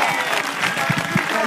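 Applause from a crowd at an outdoor political rally in Como, Italy, brief and fairly close, a dense patter of clapping with a few sharper claps standing out.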